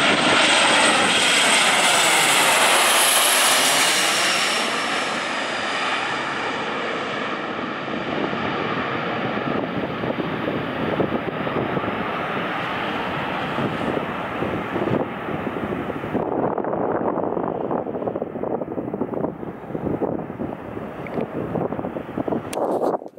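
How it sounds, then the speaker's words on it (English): A fixed-wing airplane roars loudly overhead, its broad engine noise peaking early and fading, followed by a long, softer rushing whisper of wing vortices trailing behind for the rest of the passage. "after the plane passes over, you can hear the wing vortices for about 20 seconds after the plane has already passed by"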